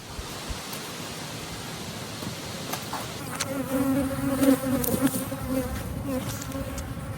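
Honey bees from a research colony buzz steadily and close around a beekeeper, a dense droning hum with individual bees passing near, alone without talk and growing slightly louder partway through.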